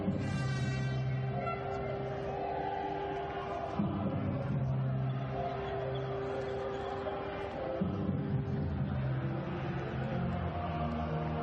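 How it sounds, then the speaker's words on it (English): Steady crowd murmur fills the Stadio Enzo Ricci at the Atalanta v Empoli under-19 Primavera cup final, a continuous low roar of many voices with faint tonal strands and no clear individual shouts. "There's a good crowd in here at the Stadio Enzo Ricci."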